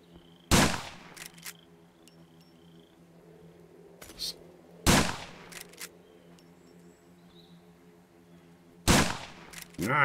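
Three loud, sharp gunshots from the Clinchester gun in the Survive The Nights video game, spaced about four seconds apart, each followed by a brief ringing tail over a quiet humming background, with a few faint clicks between.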